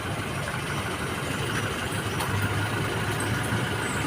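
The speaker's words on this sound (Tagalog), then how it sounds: "Motor lang." A motorcycle engine rumbles past on a road near a waterfall, a steady low drone with broadband noise that swells slightly midway, fairly close, without talk over it.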